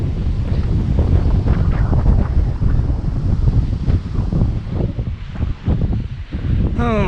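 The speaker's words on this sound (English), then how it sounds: "Ooh, quite windy," Strong gusty wind at the Birkenhead waterfront, Merseyside, buffets the microphone in loud, continuous roaring bursts, with water sloshing faintly underneath.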